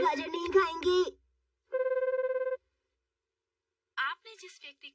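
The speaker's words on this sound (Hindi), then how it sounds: "हैरी मेरा फोन क्यों नहीं उठा रहे?" A telephone rings unanswered in a cartoon, a steady burst of repeated ring tones standing alone between stretches of animated speech before and after it.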